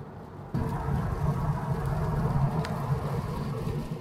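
A Vauxhall Tigra's engine idles low, then rises as the throttle is touched in fifth gear, settling into a steady, fairly close hum with a slight rough edge.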